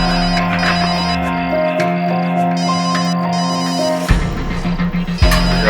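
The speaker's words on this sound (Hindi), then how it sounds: "फोन यहाँ आसपास ही बज रहा है।" A mobile phone rings nearby with a repeating electronic ringtone melody, steady and fairly loud, shifting slightly near the end as it is approached.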